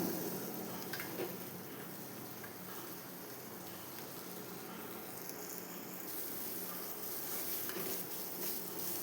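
Chopped vegetables for banana flower kootu sizzle steadily in a hot pan, a continuous close crackling hiss with occasional stirring scrapes, no voices.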